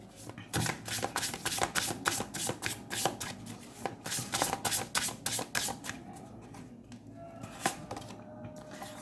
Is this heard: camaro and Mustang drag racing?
no